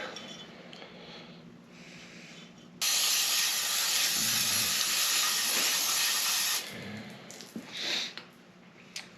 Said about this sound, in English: Using the brake clean liberally.